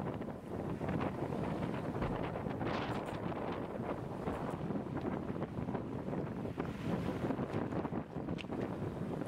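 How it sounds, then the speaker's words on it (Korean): Strong wind buffets the microphone at a rest area in the Columbia River Gorge, a steady, loud rumbling gust that runs throughout with no voices. "근데 바람 또한 매우 강했습니다"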